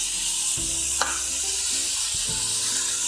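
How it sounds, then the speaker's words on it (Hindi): A panful of vegetables sizzles loudly and steadily while frying, a dense close hiss with one sharp clack near the start and a low hum running underneath, with no talking. "ये देखिए मेरा जो सब्जी है वो फ्राई हो गई है"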